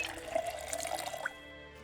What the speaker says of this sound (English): Fill my water bottle.